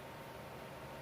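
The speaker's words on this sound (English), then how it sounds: "you can hear my white noise behind me" A white noise machine gives a steady, even hiss that fills the space, constant and soft with no other sounds.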